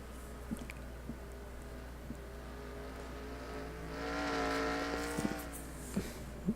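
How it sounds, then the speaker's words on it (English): NASCAR Cup Series race cars lap the Las Vegas road course in qualifying, with a distant engine drone swelling as a car passes, rising and falling in pitch, over a low steady background rumble. "See these drivers zing around this track."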